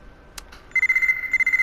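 A phone ringtone from the video game Buried Stars plays after a couple of brief clicks: a bright, repeating electronic trill that pulses in quick, even beats, clear and close.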